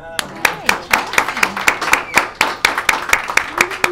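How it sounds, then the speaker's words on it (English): Sparse clapping from a small studio audience for a talk show guest, sounding as distinct individual claps in a loose rhythm, with a voice speaking underneath. "Please give a round of applause."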